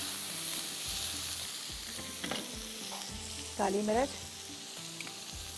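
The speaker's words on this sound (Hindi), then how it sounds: "यहाँ पर हम वेजिटेबल को हल्का सा इस तरह से" Vegetables stir-fried in a pan for a bean salad, a soft bed of sizzle under clattering stirring strokes, with a few spoken words over it.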